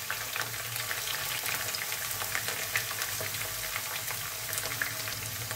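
Cauliflower florets frying in hot oil for aloo gobhi, a continuous fine crackling sizzle that holds steady and close throughout, without any talking.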